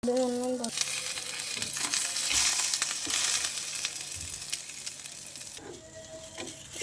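Bread slices soaked in milk and egg fry in a pan with a steady, close sizzle and occasional scraping as they are turned, a brief voice heard at the start and end.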